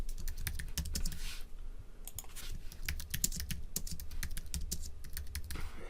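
Fast, steady typing on a computer keyboard, with crisp individual key clicks in an uneven rhythm, close and clear, with no voices.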